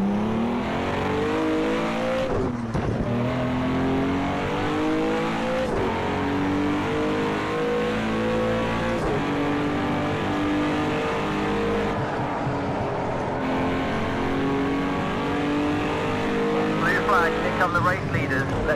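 GT3 race cars in a racing video game roar past in a steady, loud stream, engines revving and shifting gears with a brief squeal of tyres near the end.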